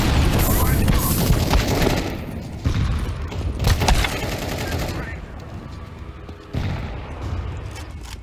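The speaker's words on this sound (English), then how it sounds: "I'm throwing a grenade." Video game combat with grenade blasts and gunfire: continuous heavy rattling shots and booming thuds that fill the whole stretch, loud and close. Talk sits under parts of it.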